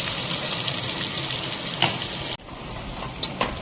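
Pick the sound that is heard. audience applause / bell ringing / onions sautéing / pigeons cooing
onions sautéing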